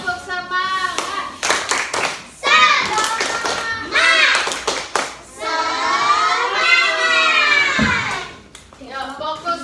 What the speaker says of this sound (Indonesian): Ya, tepuk semangat lagi. Tepuk semangat.